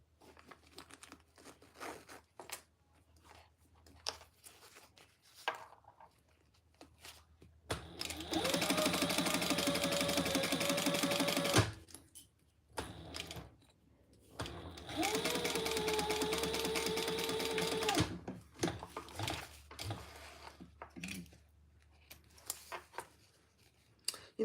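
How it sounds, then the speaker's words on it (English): A sewing machine stitching a phone pouch runs in two sustained bursts of several seconds each, loud and close, separated by quiet handling noises and brief fabric rustles. "going to sew it from this side so I can get just on the other side of where my other stitches were"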